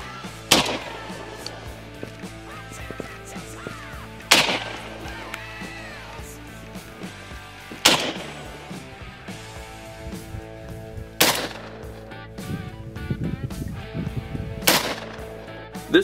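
Shotgun fired at targets with different chokes, five sharp loud blasts spaced a few seconds apart outdoors, each with a short echoing tail.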